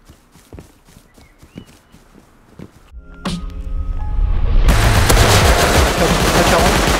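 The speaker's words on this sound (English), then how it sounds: "They got a turret, I think." Turret gunfire in the survival game Rust erupts after a few scattered footstep-like taps and single shots, swelling into a loud, sustained barrage of rapid fire that fills the last several seconds.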